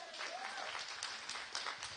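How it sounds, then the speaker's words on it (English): An audience at a youth community talk in Levin, Horowhenua claps for a woman coming up, a steady burst of applause with cheers and voices mixed in. "Give her a round of applause."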